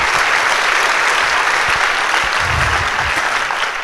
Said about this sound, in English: stand up so everybody can applaud for you one more time